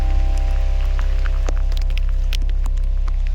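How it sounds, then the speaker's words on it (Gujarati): Steady rain falls on the old stone stairway down Girnar hill near Junagadh, a continuous close hiss with scattered sharp drips and taps over a low constant rumble, no talk. "વરસાદ બહાટી બોલે છે."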